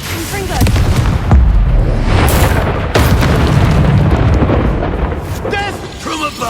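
Confringo blasting spell explosions in Hogwarts Legacy, loud booming blasts with rumbling debris in rapid succession, under a voice casting spells.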